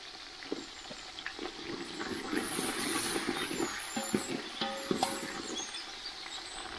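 Cumin, shallots and green chilies fry in a pan over a village cooking fire, giving a steady hissing sizzle with scattered crackles and pops. The sound stays close and fairly loud throughout, and nobody speaks over it.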